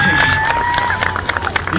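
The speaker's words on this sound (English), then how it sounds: "How about a nice round of applause for our alligator?" A crowd at an alligator show in Florida applauds and cheers, with steady clapping and chatter blended with a whistle-like tone, loud and close throughout.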